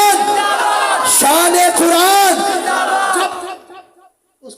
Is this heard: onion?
no